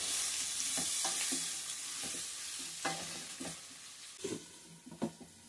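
Bitter gourd pieces frying in a pan, with a constant loud sizzle and irregular spatula scrapes and taps that grow busier toward the end, close and without speech.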